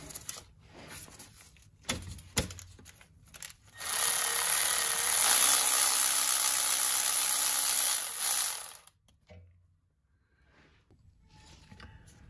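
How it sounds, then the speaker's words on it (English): A ratchet wrench loosens a 15 mm oil pan bolt on a 2011-2016 Chevrolet Cruze 1.8L, first in a few short clicks, then a long steady whirring run of about five seconds, close and loud, followed by quieter handling. "So there's 2 bolts on the side of the oil pan that we have to take off."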